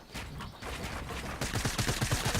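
Rapid gunfire in a video game buildfight: a dense burst of shots that turns into quick, evenly spaced rattling bursts toward the end, loud and close, with no talk over it.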